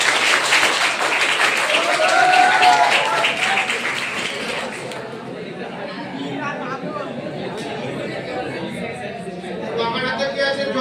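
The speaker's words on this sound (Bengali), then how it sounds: "হ্যাঁ, দূরে হাততালি দাও একটা।" A group of people clapping their hands together in a classroom-like room, a burst of rapid, overlapping claps lasting several seconds before fading into murmured chatter and talk.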